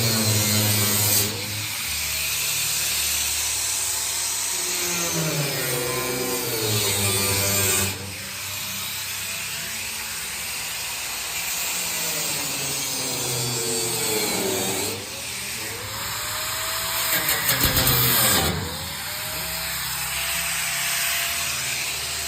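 A saw makes relief cuts in the sunken floor of a 1950 Mercury, sending out a loud, steady, harsh grinding hiss that runs almost nonstop, with brief dips and pitch sweeps as the blade works the metal.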